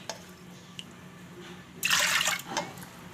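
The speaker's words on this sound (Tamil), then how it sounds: "1 கப்புக்கு 3 கப்பு தண்ணி வைக்கணும்." Water is poured into a pot of rice and lentils for sweet pongal, starting with a few faint drips and then a short, close splashing pour of about a second over quiet kitchen background.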